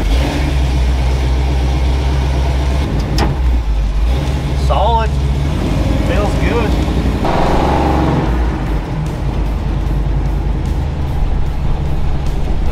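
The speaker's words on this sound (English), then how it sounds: "take this old tow truck for a rip" An old rat rod tow truck on a test drive, its engine droning and revving loudly throughout, with someone talking briefly over the steady mechanical roar.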